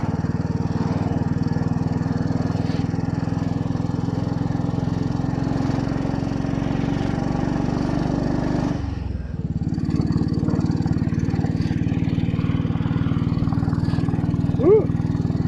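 A Royal Enfield Bullet 500 motorcycle with a sidecar accelerates up through the gears, its loud, rasping single-cylinder drone steady and close, with a brief dip at a gear change before pulling on again.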